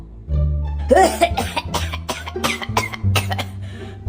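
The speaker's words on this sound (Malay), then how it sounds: "aku tengok batuk kau ni makin teruk." Loud, close human coughing comes in a rapid fit of several harsh bursts, one after another, with a low hum underneath.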